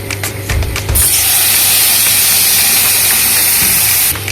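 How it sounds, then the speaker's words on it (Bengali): Water poured into a hot pan of frying vegetables, with brinjal, for Bengali shukto bursts into a loud, sustained steam hiss lasting several seconds, preceded by a few stirring clinks, close up with no talk. "এবার দিয়ে দেবো জল।"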